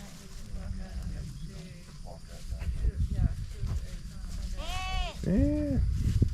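Goats bleating at a farm, two or three loud, close, wavering cries near the end, following a stretch of people talking over outdoor background noise.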